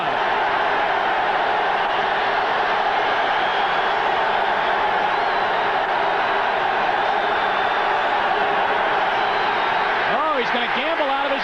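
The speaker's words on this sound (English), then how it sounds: "And listen to this crowd." A large football stadium crowd in Cincinnati, at a 1988 Steelers game, roars in a steady, dense wash of noise while a commentator talks over it.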